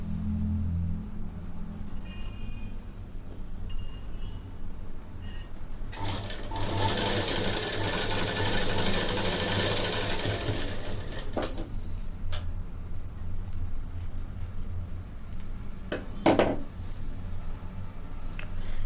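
A sewing machine stitches a large-size blouse, running in a loud continuous whirring burst of several seconds between quieter stretches of low motor hum and handling clicks, close by with no talking.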